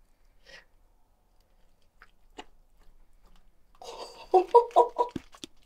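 A long-eared owl eats a piece of raw chicken, starting with faint scattered taps and then a loud burst of wet biting and gulping near its end, with no voices.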